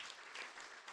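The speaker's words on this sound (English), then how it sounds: "If you could just give a round of applause" An audience at a book launch on coal mining in South Africa claps, a brief, even burst of many hands at moderate level with no voices over it.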